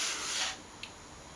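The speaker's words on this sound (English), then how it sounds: "I will be beveling the edge of both the body in here and the cavity" Wooden edge of a guitar cavity cover being bevelled, a short close scraping rub lasting about half a second, then quiet with one small tap.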